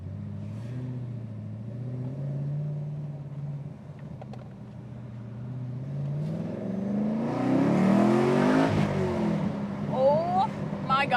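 A naturally aspirated 750hp car accelerates hard, its engine note climbing in pitch and loudness, with excited voices in the cabin over the rising drone.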